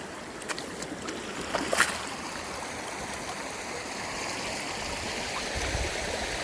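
Water pours over a farm pond dam in Southern Illinois after heavy rain, a steady, close rush of flowing water that continues without a break.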